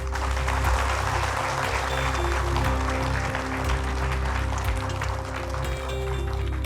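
A women's audience applauds at a televised talk show, a dense and steady roar of many hands clapping together with a low background hum underneath.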